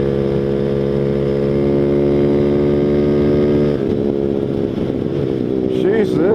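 A Boom Vader Grom-clone small motorcycle hums steadily while riding, a loud, even engine drone that shifts and wavers as the rider changes speed.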